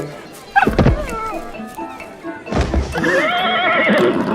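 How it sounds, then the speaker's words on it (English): A horse neighs loudly twice, a sharp whinny near the start and a longer, wavering neigh in the second half, with clip-clop thuds around it. "Chad gently calmed the horse and got off"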